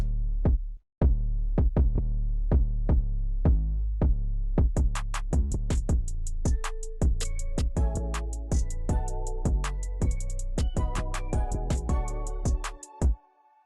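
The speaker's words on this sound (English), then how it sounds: "I added the kick and the 808 bass" A beat of punchy kick drums and deep booming 808 bass, joined by crisp hi-hats and melodic plucks that grow busier, playing steadily without vocals.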